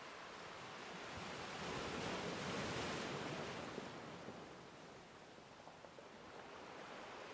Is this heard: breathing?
no